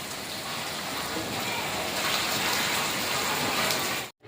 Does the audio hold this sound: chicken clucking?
no